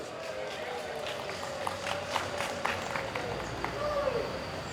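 Audience applause at a Monday morning assembly at BPSDM Hukum dan HAM: scattered, uneven clapping with distinct individual claps and crowd murmur, while a voice speaks over parts of it.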